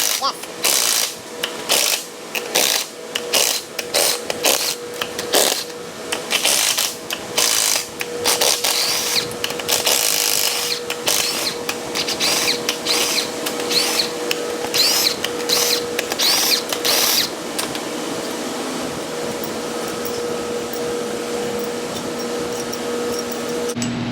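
A ratchet wrench rattles in fast, rhythmic clicking bursts while big bolts come off an LS4 engine during a camshaft swap, close and steady for most of the stretch before trailing off into a quieter hum.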